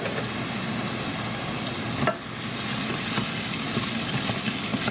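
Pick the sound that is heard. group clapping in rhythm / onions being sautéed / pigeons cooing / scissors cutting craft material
onions being sautéed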